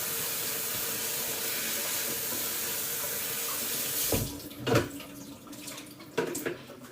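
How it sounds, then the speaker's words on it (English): Kale is rinsed under a running kitchen tap, a steady rushing stream into the sink for about four seconds, then the flow stops and a few splashes and wet handling sounds follow. "And wash it one more time."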